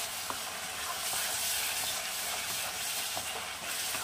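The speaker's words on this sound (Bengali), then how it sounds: "আবার এটাকে আমি ভালো করে কষাবো।" Home-ground coriander and cumin powders sizzling as they are stir-fried for halwai-style aloo gobi, a continuous close hissing fry with light stirring scrapes and no talk.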